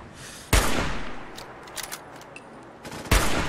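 Gunfire in Fallout 4: two loud, sharp shots roughly two and a half seconds apart, each with a decaying tail, and faint clinks and rattles in between.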